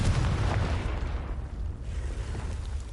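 A Confringo fire spell explodes in Hogwarts Legacy on PS5, a single heavy rumbling burst with a deep low boom that holds steady for a few seconds and then fades slightly, with no talking.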